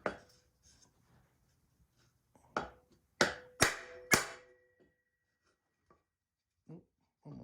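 A hammer strikes a block of wood held against a bicycle headset part while building a Kona Dew bike: a few sharp, close knocks, including a quick run of three, separated by quiet gaps, with some light handling noise.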